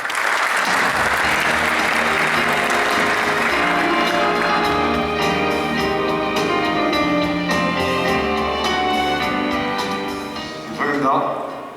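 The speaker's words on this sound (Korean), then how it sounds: "박수로 환영해 주십시오." Sustained audience applause greets a speaker at a Seoul Digital Forum session on the broadcasting industry, loud and steady throughout before fading slightly near the end.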